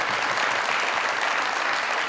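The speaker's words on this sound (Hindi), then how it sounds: "ये लेजेंड्स के लिए तालियां।" A studio audience at a comedy talk show breaks into steady, dense applause, loud and continuous for a couple of seconds with no voices over it.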